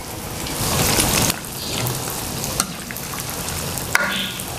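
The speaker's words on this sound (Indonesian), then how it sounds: "Airnya sudah mendidih teman-teman nih, saya kasih garam." Water at a rolling boil in a cooking pot on a home stove, heated for boiling winged beans. A dense, steady bubbling hiss continues throughout at close range, with small pops and clinks and no talk.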